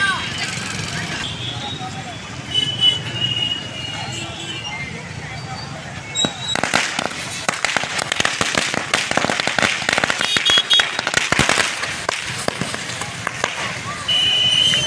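Rapid, crackling bursts of firecrackers pop in dense irregular volleys during Diwali celebrations, loud and close, building in the middle section, with voices murmuring in the background.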